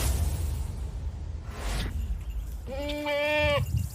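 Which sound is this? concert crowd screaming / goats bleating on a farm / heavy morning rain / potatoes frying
goats bleating on a farm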